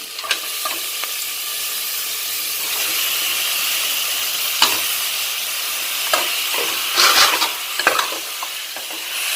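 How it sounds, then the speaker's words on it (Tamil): Mutton pieces sauté in a pan for pepper mutton soup, a loud steady sizzle and hiss with stirring scrapes and a few sharp clatters, close and with no talk. "இப்போ நம்ம வச்சுருக்க மட்டன் பீசஸை இதில் போடணும்."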